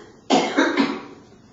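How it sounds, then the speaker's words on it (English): A person coughs three times in quick succession, close and fairly loud, with a short tail of quiet afterward. "I have to cough."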